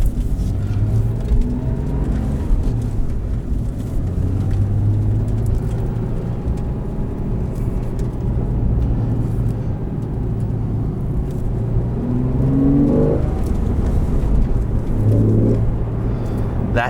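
A 2014 Porsche 911 Carrera with a seven-speed manual gives a low, steady engine and induction drone while driving, with road rumble underneath and a couple of brief rising swells as the revs climb.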